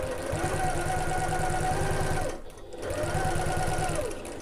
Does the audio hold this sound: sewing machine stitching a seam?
yes